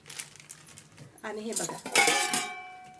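Steel utensils from a pressure cooker set, including the cooker's whistle and two steel containers, clink and clatter as they are handled up close, metallic rings standing out, with a voice talking over the handling.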